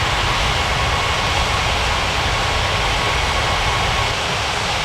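A UPS cargo jet rolls for takeoff on runway 14 right in the air traffic control game White Center Airport, its engines a loud, steady roar with no rise or fall across the five seconds.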